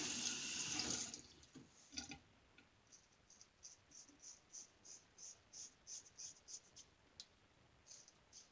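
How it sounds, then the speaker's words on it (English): Water runs briefly into a bathroom sink during a shave, then slow, regular drips fall one after another at a steady rhythm, quiet and close. "I'm just leaning forward so it'll drip right into the sink here"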